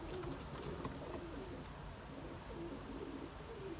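Racing pigeons coo steadily in a loft, a grizzle among them, their low murmuring calls overlapping in a continuous close chorus over a dense background hum.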